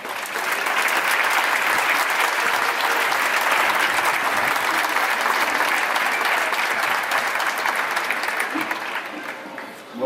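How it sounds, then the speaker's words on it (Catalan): A large audience at the closing concert of the Fira Modernista in Carcaixent applauds loudly and steadily for about ten seconds, a dense even roar of clapping that thins slightly at the very end. "Un fort aplaudiment, per favor."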